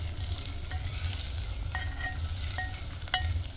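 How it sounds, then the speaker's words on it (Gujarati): Onions fried and stirred in a clay pot over a traditional wood stove give a continuous close sizzle, broken by a few sharp scraping clinks of the spoon against the pot. "કાંદાને મિક્સ કરી લઈશું"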